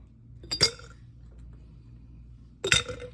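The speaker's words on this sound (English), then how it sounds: "I am going to take my pumpkin ice cubes and put them in just like so." Pumpkin ice cubes drop into a glass for iced coffee, two separate sharp clinks about two seconds apart with quiet between them.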